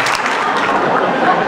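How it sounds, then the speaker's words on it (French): Audience applauding at a film premiere screening in a cinema, a dense, steady wash of many hands clapping that fills the whole short stretch at close, fairly loud level. "c'est nous qui vous applaudissons"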